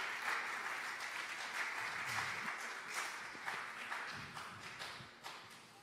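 A church congregation applauds in praise of God, a steady wash of many hands clapping throughout with a few louder bursts, no voices standing out.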